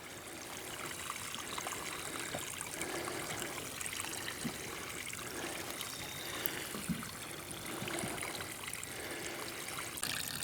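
Grey water from a newly installed grey water system runs out in a steady, continuous trickling stream, close and unbroken for the whole stretch with no voices.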